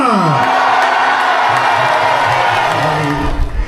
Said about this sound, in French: Donc on les applaudit bien fort, s'il vous plaît.